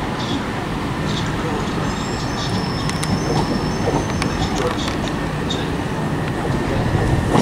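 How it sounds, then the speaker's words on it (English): A Southern class 377 electric passenger train, the Brighton to Hastings service, arriving at Lewes station with a steady low rumble and faint wheel squeal, rolling in under station ambience. "approaching now is the 1147 Southern service from Brighton to Hastings"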